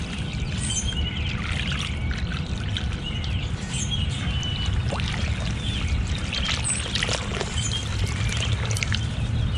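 Hot tap water pours steadily into a frozen bird bath in a garden in mid-March, with a continuous splashing trickle and faint bird chirps in the background.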